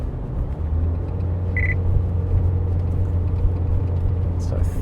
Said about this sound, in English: Now some engine braking.